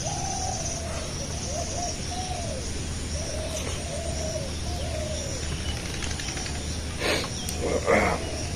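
A dove coos in a slow, repeating series of soft hoots, fairly close, with some faint rustling and clatter near the end.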